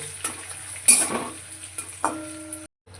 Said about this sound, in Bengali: কড়াইতে সর্ষের তেল গরম করে নিয়েছি দিয়ে দেবো কাজু কিশমিশ কাজু কিশমিশগুলোকে এক দু মিনিট ভেজে নেব